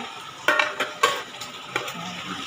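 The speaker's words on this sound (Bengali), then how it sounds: "ফ্যাসা মাছ ভাজা হচ্ছে।" Phasa fish fry in a pan, a constant hiss of sizzling oil punctuated by several sharp metallic clinks and scrapes as the pieces are stirred.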